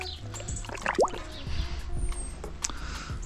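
Water dripping and splashing while a cleaned bass is rinsed, with close, scattered drips and light liquid gurgles over a soft outdoor background.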